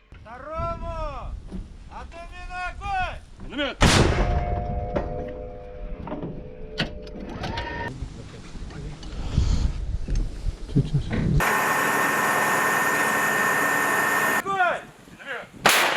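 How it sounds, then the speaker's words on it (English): A 2S4 Tyulpan 240mm self-propelled mortar fires, with several loud, heavy blasts cut between stretches of mechanical and outdoor noise. "The crew will most likely fire just 5 to 6 mortars before hastily leaving the firing position."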